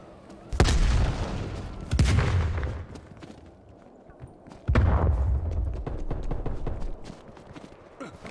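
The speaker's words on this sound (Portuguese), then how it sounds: "Lançando granada" Grenade blasts in the Call of Duty Black Ops Cold War video game: three loud booms, each with a sharp onset and a rumbling decay, separated by quieter stretches of scattered game noise.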